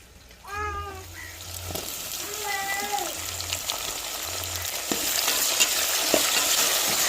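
Onions, garlic, green chillies and tomato fry in oil in a home kitchen pan. A cat meows a few times near the start, then the hiss of the oil grows and turns into a loud, steady sizzle.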